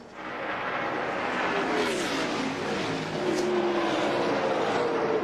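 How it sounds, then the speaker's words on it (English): NASCAR Winston Cup race cars roar around Atlanta Motor Speedway in 2001, a dense, steady engine drone from the pack with pitch sweeps as cars pass, loud and continuous with crowd-level noise beneath. "The 8 car's awfully fast, like you said, DP, off the turn 4 there"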